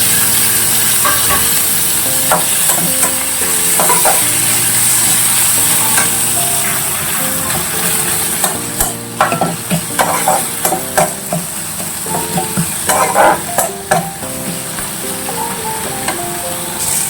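Spices and tomato fry in a pan under a constant loud sizzle, while a spoon scrapes and stirs with irregular clacks and knocks that grow busier toward the end.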